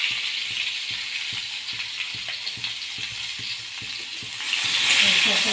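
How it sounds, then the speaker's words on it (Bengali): Pointed gourd (potol) and potato pieces fry in a pan with salt and turmeric. The oil sizzles steadily while a utensil stirs with a regular clicking and scraping rhythm, and the sizzle swells louder near the end. "পটল আর আলুগুলো ভালো করে ভেজে নিতে হবে, লাল লাল যতক্ষণ না হয় ততক্ষণ"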